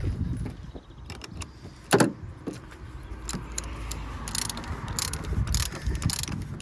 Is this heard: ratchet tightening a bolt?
yes